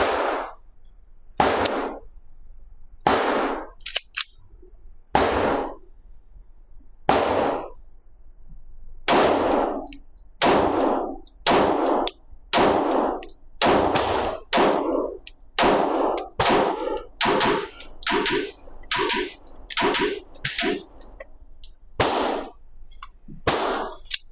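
A Rock Island Armory Derya DY9 pistol fired outdoors in over twenty loud, sharp reports, spaced at first and then coming in quicker strings, each with a short ringing tail.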